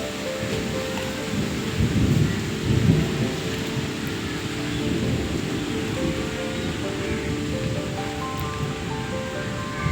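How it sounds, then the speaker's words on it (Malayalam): A low rumble of thunder rolls beneath steady rainfall, a continuous wash of noise with deeper swells rising and fading, no voices heard. "ഇടിമിന്നലും ഇടിമഴയൊക്കെ നല്ല ഗംഭീരമായിട്ട് വരുന്നുണ്ട്"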